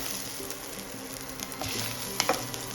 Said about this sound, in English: my kadhai or the pot is very hot. Now to that we will add an inch of ginger